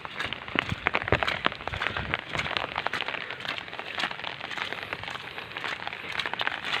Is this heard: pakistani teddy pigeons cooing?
no